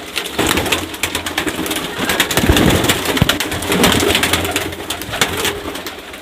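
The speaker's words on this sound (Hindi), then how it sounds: "ये देखें सारे अंदर आ गए हैं, ये देखें जी सारे कबूतर आ गए हैं" Pigeons coo inside a breeder cage, several birds producing soft low murmuring calls that overlap continuously, with some rustling and flapping close by.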